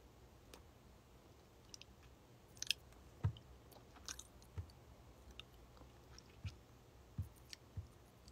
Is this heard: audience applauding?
no